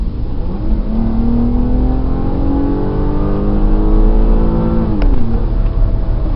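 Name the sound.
2002 Land Rover Freelander SE accelerating hard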